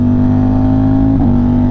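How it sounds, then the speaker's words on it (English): Ducati Panigale V4 SP2 motorcycle engine, a loud, close, steady deep rumble with strong bass tones that dip briefly as the revs shift. "The Ducati is such a unique sound, and camera does not do a good job of picking up like the bass that this bike has."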